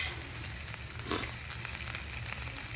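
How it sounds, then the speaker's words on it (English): Potatoes cooking directly on the hot coals of a Weber Smokey Joe grill, a continuous close sizzle and crackle with faint pops, steady throughout with no talking. "These potatoes are gonna be just fine. Cooking just like this on top of the coals."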